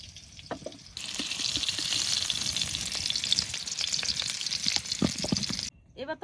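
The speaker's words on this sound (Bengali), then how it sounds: "আলুগুলো একটু হালকা করে ভেজে নিয়েছি" Sliced new potatoes fry in hot oil in a rustic village kitchen, a steady broad sizzle running for several seconds with occasional utensil clicks, then cutting off abruptly near the end.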